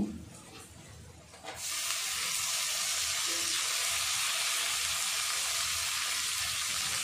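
Chopped tomatoes go into a hot pan of fried ginger-garlic paste while cooking dum aloo with small potatoes. A loud, steady sizzling hiss bursts in suddenly and keeps going evenly to the end, with faint clatter before it.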